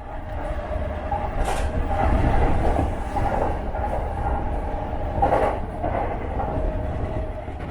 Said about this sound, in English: we're back on a train trip now